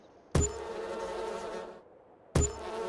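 Bees buzz steadily around beehives on a winter farm in Farming Simulator 22, a close, continuous drone that starts abruptly, fades out, then starts again near the end.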